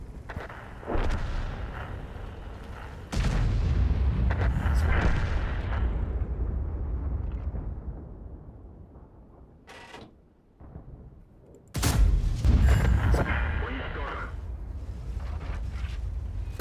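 Heavy artillery blasts boom out in a World of Tanks-style tank battle game, several loud, sharp bursts with long rumbling decays separated by quieter gaps, a big shot near the start, another around the middle and a final powerful one toward the end.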